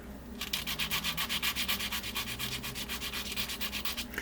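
Rhythmic back-and-forth strokes of sandpaper on a small wooden model ship part, steady and close, about a dozen even rubs repeating without pause and with no voices.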